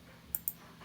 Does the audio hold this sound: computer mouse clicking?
yes